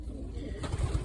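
Young breeding squabs make low pigeon coos close by, quiet at first and then a few fuller rumbling coos near the end of the short stretch.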